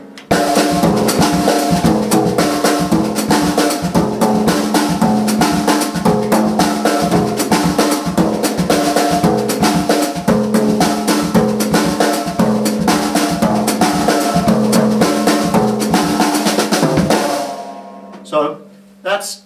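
Loud, busy samba percussion ensemble with a deep surdo bass drum pulse locked under driving repetitive patterns, playing steadily throughout before stopping abruptly near the end, followed by a couple of faint hits.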